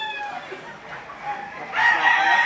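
A Golden Boy street comb rooster in a market setting, with clucking and crowing calls from fowl close by, the louder call swelling near the end.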